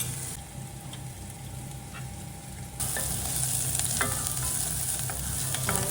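Onions and curry leaves fry in cold-pressed coconut oil for an egg curry, sizzling steadily up close with occasional stirring scrapes, the crackle growing louder and brighter partway through.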